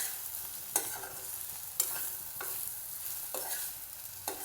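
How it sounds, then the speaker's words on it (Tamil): Brinjal frying in a pan with chili powder gives a soft, quiet sizzle, broken by several sharp scraping stirs at irregular intervals, close by and with no voices. "இப்படி நல்லா கிளறி விட்டுக்கோங்க."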